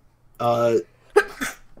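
A single short burst like a sneeze, then a brief catch of voice; close and moderately loud, with a quiet pause between.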